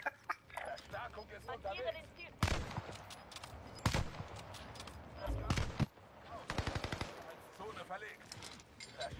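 Bursts of gunfire from a shooter video game, several sharp loud volleys and rapid automatic strings scattered over several seconds, with people talking between and over the shots.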